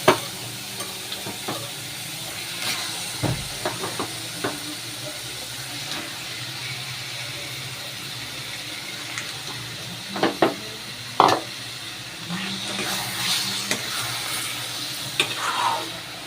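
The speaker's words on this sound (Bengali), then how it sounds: "এবার এই যে মাংসটা দিয়ে দিই এর মধ্যে।" Meat goes into a hot pan and sizzles softly while a spoon scrapes and stirs, with scattered clinks and bumps over a quiet frying hiss, no talk.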